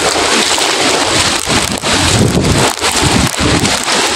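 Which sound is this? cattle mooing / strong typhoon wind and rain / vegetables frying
strong typhoon wind and rain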